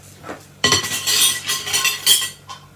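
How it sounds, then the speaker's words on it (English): A metal sealing lid fished out of a pan while canning apple pie filling, loud close clattering and clinking of metal on metal for about two seconds after a faint knock, then one last soft clink. "Fish out one of our sealing lids."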